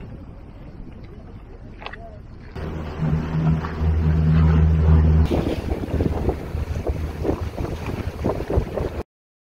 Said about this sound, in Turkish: Tepemize bir tekne geliyor.